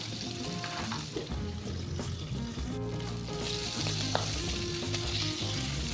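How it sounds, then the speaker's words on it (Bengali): Singhi fish fry in hot oil with a loud continuous sizzle and sputtering pops, close up and steady, with no voices. "গরম তেলে শিঙি মাছ ছেড়ে দিলে মাছগুলো ভীষণ ফুটতে শুরু করে"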